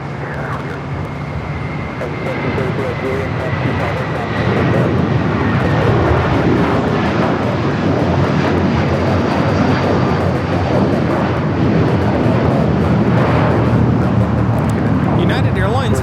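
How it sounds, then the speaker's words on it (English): A United Airlines Boeing 757-300 takes off from Los Angeles airport, a broad, steady roar of jet engines rising slightly and holding loud and continuous throughout, with faint wind noise and no clear voices. "United Airlines 1431 taking off to Honolulu on the 757-300."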